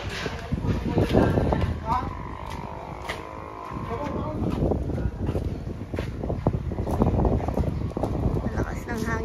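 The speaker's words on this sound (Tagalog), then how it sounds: "Malakas ng hangin." Strong wind buffets the microphone with a constant roaring rumble, while people talk faintly underneath.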